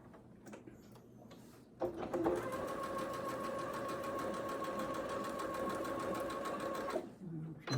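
Domestic sewing machine stitching a quilt block seam, running in a steady rapid chugging rhythm for about five seconds with a slightly knocking, tick-like mechanism suggesting it needs cleaning; close and fairly loud, with brief voice and handling noise before and after.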